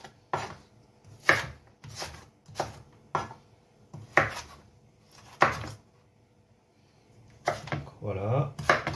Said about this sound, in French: on va la reprendre pour faire des lamelles de la même largeur